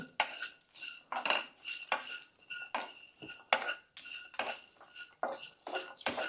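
Ginger pieces, with garlic added earlier, are stirred in a hot pan, a spoon scraping and clinking against the metal in repeated close strokes with a steady back-and-forth rhythm, no voices.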